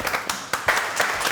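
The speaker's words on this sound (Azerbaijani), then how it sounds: "Alqışlayaq." A studio audience on an Azerbaijani comedy talk show bursts into steady applause, dense clapping that stays level and fairly loud throughout the short stretch, with no voices over it.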